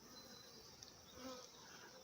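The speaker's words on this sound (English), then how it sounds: "there's a tiny swarm which is now getting smaller and smaller as they ascend that branch to join the main swarm." A small swarm of honey bees gathering on a tree branch to join the main swarm, giving a steady, faint buzzing drone that holds through the clip with a slight swell near the middle and no talk.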